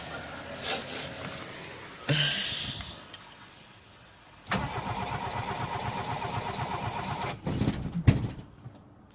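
A flooded car engine cranks repeatedly without catching, a sustained churning starter rhythm broken by short pauses, close and fairly loud.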